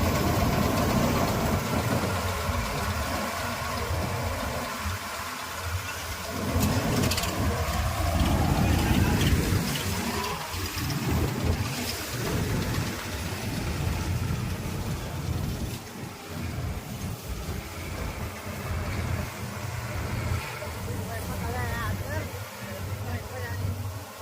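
A combine harvester engine drones steadily and loudly throughout while threshing wheat, with mechanical rattling and voices talking over it.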